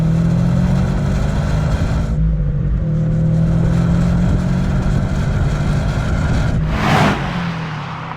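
A Subaru WRX STI S209 driven hard through corners, its engine droning loudly and steadily, dipping briefly as the throttle lifts, then rising again, with a sharp burst of noise near the end as the car pushes on.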